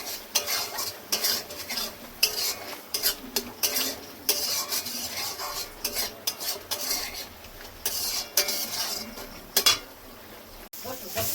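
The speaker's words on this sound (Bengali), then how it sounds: "আর একটু মশলাটা কষিয়ে নেবো এগুলো দিয়ে।" Spices and a spoonful of yogurt with kasuri methi fry in a pan for chole, a spoon scraping and clinking against the metal in irregular strokes over a soft sizzle, up close with no talk.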